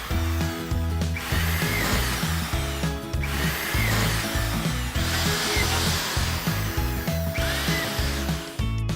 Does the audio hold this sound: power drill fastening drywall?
yes